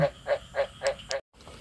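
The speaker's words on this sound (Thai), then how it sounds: "เสียงกบ" Frogs croak beside an earthen fish pond in a rhythmic series of five short, evenly spaced calls, fairly close and clear, followed by a brief silence and then faint ambient noise.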